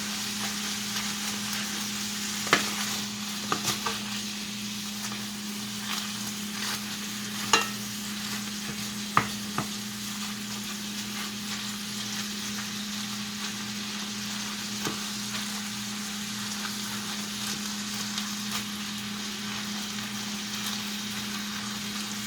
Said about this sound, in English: we're going to let it cook until it gets all the way brown